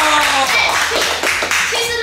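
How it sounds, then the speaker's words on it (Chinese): A small group clapping hands together indoors at a weight-loss contest results announcement, brisk and close, mixed with excited voices and cheering. "第三名是姐夫，拍手！"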